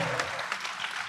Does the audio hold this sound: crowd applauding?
yes